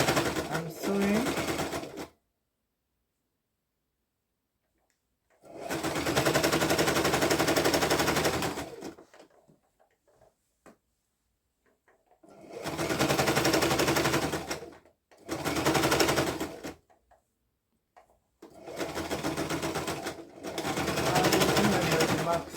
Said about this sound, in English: I'm sewing.